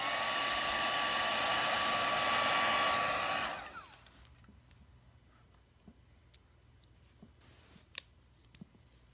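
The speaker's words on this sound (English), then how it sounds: "You could also use a hairdryer or anything that will produce or blow warm air onto it." A hairdryer blows warm air onto a sticker to loosen it: a loud, steady whirring roar for about three and a half seconds, then it switches off, leaving quiet handling and a few faint clicks.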